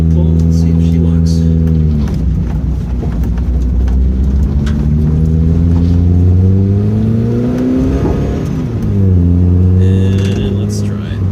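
A car engine rumbles close by, its pitch rising and falling as the vehicle accelerates and slows, with a rough noisy stretch midway as the stock handbrake is pulled, failing to lock the wheels.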